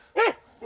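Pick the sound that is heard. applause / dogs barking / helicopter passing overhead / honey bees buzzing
dogs barking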